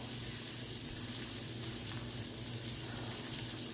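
A pot of curry vegetables boils on a stove, giving a continuous close bubbling and sizzling hiss at low volume, steady throughout with no voices.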